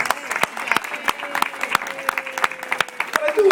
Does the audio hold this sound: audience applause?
yes